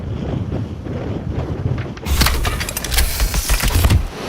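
Wind and waves around a sailboat at sea, with a low rumbling gust buffeting the microphone that swells into louder rushing water and splashing spray, close and continuous, with no talking.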